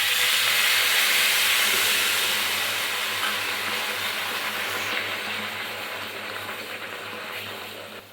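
Water poured onto hot melted sugar in a pan for caramel, a loud steady steam hiss that starts strong and slowly fades while it keeps sizzling.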